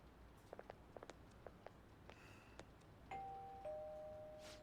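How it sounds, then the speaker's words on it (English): A doorbell rings at a house in the video game Persona 5 Royal, a bright two-tone chime that follows a few light taps and footsteps and sustains clearly toward the end, with no talking. "You ring the bell."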